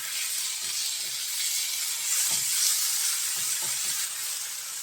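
Beaten eggs hit a pan of frying mushrooms, giving a steady close sizzle and hiss that swells slightly midway, with faint soft stirring clicks underneath and no talking.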